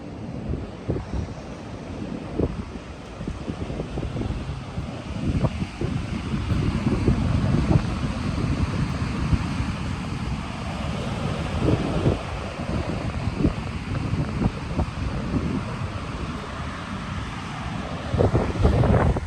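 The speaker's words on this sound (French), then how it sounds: "Il y a des vagues, ça va, il fait pas trop froid" Wind-driven sea waves roll onto a beach in cold, gloomy weather, a steady loud roar of surf with heavy wind buffeting the microphone throughout, no voices.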